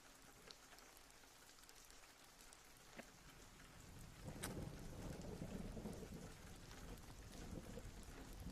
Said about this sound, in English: Thunder everywhere.